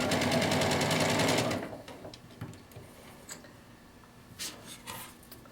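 A home sewing machine stitches a quarter inch seam, its rapid mechanical whirr loud and steady for about a second and a half before stopping, followed by faint clicks and handling sounds.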